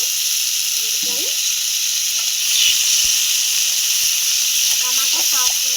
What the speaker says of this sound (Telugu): 3 టమాటాలు కొంచెం నూనె కూడా పోసుకుంటున్నానండి